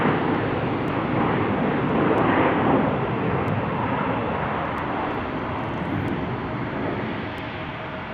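A Lynx Air Airbus A321neo jet airliner roars past at Salt Lake City airport, a broad, steady engine rush that swells and then slowly fades, with faint radio chatter behind.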